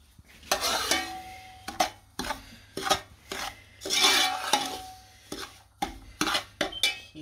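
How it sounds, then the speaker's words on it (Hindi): Semolina being stirred for halwa in a pan over low to medium heat, with a spoon scraping and rasping against the metal in repeated bursts, faint and close, with no one speaking. "इसमें सूजी डालेंगे और इसको दरमियानी से हल्की आंच पे इसको पकाना है।"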